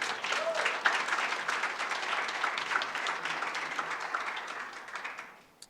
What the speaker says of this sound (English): One more time, a big round of applause for two powerhouse women of colour